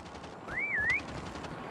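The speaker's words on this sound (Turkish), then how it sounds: "Ali şu an biri ıslık çalıyor Ali." A single rising-and-falling whistle in the Call of Duty video game hide-and-seek match, fairly clear and brief over low background game noise.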